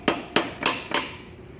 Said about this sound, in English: use every mechanic's friend, a little hammer,